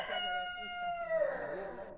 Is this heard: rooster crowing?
yes